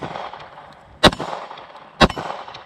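A budget Glock 19X clone pistol fired twice at an outdoor range, each loud, sharp report spaced about a second apart with a brief ring from a steel popper target and quiet ambience between.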